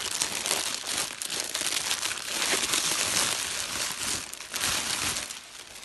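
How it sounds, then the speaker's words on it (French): Christmas gift wrapping paper crinkles and crackles as a present is unwrapped, a close, continuous papery rustle with busier bursts, heard alone. "Alors, comment déballer ceci?"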